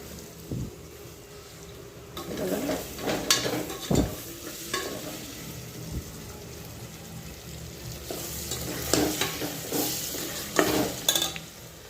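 Spices and tomato frying in a pan for khichdi, a soft bubbling sizzle broken by scraping spoon strokes that stir the mixture at intervals, fairly quiet and close.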